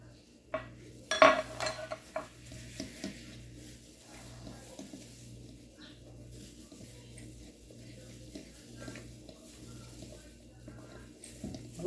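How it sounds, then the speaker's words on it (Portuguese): Flour is stirred into cake batter in a bowl with soft, faint scraping and clinking of a utensil, irregular strokes over about twelve seconds in a quiet kitchen, with a faint steady hum underneath. "E é só misturar o trigo, tá? Não pode ficar batendo demais."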